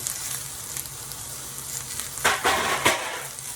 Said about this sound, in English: now we're just gonna get our veggies sauteed until you like the texture of your liking